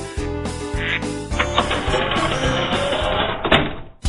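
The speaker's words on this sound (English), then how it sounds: "Bob gets the ducks out of his living room" Ducks quack and squawk in a busy cluster, with several overlapping nasal calls that keep up a steady clamor and are heard up close.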